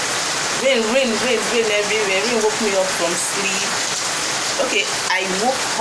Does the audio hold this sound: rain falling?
yes